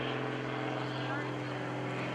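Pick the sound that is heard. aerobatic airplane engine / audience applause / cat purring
aerobatic airplane engine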